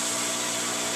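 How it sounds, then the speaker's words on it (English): A steady, loud hiss of compressed air blowing grit off a wooden segmented vase, continuous and broadband, holding without a break from start to finish. "I use some compressed air and I blow the vase off"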